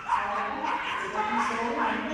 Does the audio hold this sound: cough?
no